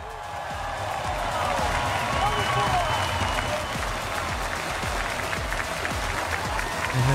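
An esports finals crowd in Rio de Janeiro, Brazil, applauds steadily as the winning team lifts the trophy. The dense clapping stays loud and sustained throughout, with a commentator's voice faintly underneath.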